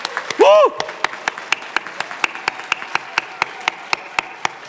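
Sparse, evenly spaced claps ring out in a church congregation, crisp and fairly near, with a short vocal exclamation near the start before the steady clapping continues alone.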